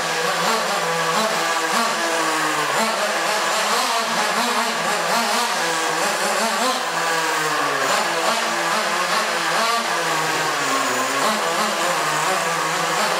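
Nitro engine of a Traxxas Slash Nitro 2WD radio-controlled car being driven, a loud close buzzing whine that rises and falls as the throttle is blipped repeatedly, running without pause and with no talk.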